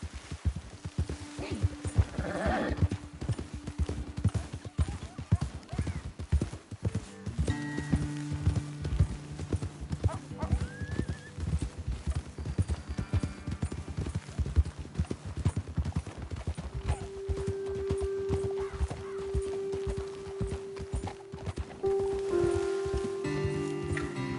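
Horse hooves clip-clopping at a steady walking gait while riding in the Red Dead Redemption 2 video game, close and continuous with light rustling, brief tonal game sounds, and faint speech underneath.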